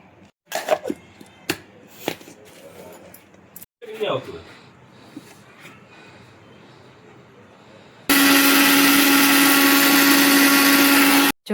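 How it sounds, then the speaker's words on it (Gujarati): A kitchen mixer grinder grinds dried Kashmiri chillies in a loud, steady whirring burst during the last few seconds, after clatter and handling noises at the start. "ચા મરચાં છે સુકાવી દીધા હતા અને હવે આપણે મિક્સરમાં નાખીએ અને દળી લઈએ."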